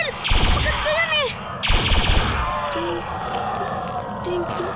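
Gunfire in a zombie shooting video game: two loud bursts of rapid shots, followed by game effects and the hum of background action.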